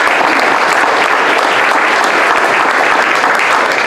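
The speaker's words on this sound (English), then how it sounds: "So a round of applause for them." A packed audience at a Seattle mayoral candidate forum on transportation and housing claps for the event's two tech volunteers, a loud, dense and unbroken wash of applause with no talk over it.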